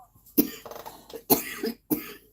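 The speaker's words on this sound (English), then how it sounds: "Excuse me for coughing." Three harsh coughs in quick succession, close and fairly loud, with throaty rasping between them.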